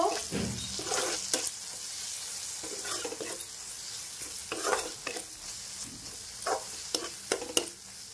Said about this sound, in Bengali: আর দিয়ে দেব জিরে গুঁড়ো, দিয়ে দিলাম। একটু নাড়িয়ে নেব।